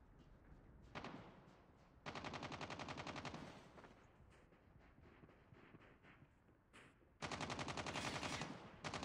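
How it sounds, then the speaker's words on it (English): A sentry gun in Call of Duty Mobile fires long sustained automatic bursts, loud and rhythmic, broken by quieter stretches of distant shooting. "Be advised, hostile sentry gun spotted."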